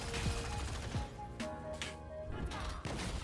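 Minigun skill of the Artillerist class firing in Lost Ark, a steady stream of rapid shots with thuds and crashes layered over game music, fairly loud and continuous throughout.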